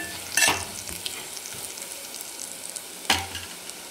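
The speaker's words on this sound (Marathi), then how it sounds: "आणि छान आपण त्याला पण तळून घेऊ। गॅस मंद ठेवायचा या वेळेला" Spices fry over low heat in a pan for Khandeshi dal batti, a faint hiss marked by two sharp clattering stirs or taps, one near the start and one near the end.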